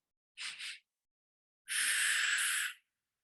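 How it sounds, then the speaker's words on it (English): Two short, quick breaths drawn in through the nose close together, followed after a pause by one long, steady breath out through the mouth, close and clear with no talking. "taking 2 quick inhales through the nose and 1 long exhale"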